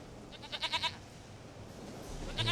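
A goat in the video game The Witcher 3 bleats in a short run of about four quick wavering cries, fairly close, followed by a brief closing bleat after a lull with a low background hum.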